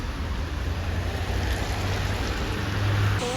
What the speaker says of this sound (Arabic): والدنيا مطر